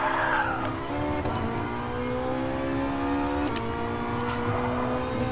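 A Ferrari 458 tuned to 900 hp screams as it accelerates hard through the gears, engine pitch climbing then dropping at shifts, with tire squeal and skidding mixed into the loud, continuous, close roar.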